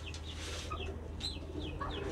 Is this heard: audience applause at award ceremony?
no